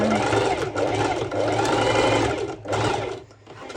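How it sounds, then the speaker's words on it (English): Sewing machine running a straight stitch on stretch net fabric for a sporty top, a fast close mechanical whirr in short bursts with brief pauses between them. "And I'm just simply going to do a straight stitch over."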